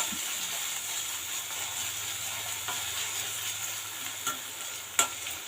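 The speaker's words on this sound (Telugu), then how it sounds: "ఆనియన్స్ వేగుతుండగా క్యారెట్ పచ్చిమిర్చి అన్నీ వేసేసుకుందాము చూడండి అన్నీ వేసేసుకున్నాను స్టవ్ హైలో పెట్టుకుని రోస్ట్ చేసుకోవాలి" Onions, carrot and green chillies roast in a pan on high flame, giving a steady, close hiss with occasional sharp pops and a spatula knock near the end.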